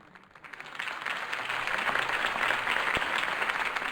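Applause from a crowd after a speech in the video game Batman: The Telltale Series swells quickly and holds steady, dense clapping filling the space for several seconds.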